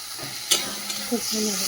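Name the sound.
spice paste (masala) frying and being stirred in oil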